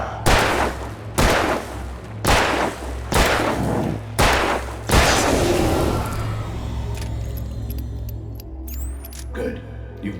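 Gunshots in the video game Alan Wake Remastered: five loud, evenly spaced shots with booming decay, followed by quieter ambient game sounds and faint clicks.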